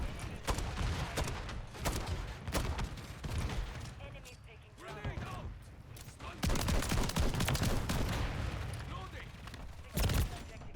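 Shotgun and grenade launcher fire in the video game Lethal Company: loud, close blasts in irregular bursts, several in quick succession, with talking woven between the shots.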